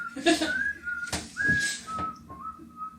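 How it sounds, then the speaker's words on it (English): A person whistles a short, wandering tune, a few sliding notes with brief pauses, close by and fairly soft. "you're getting more absorbed by the whistling than you are by the looking"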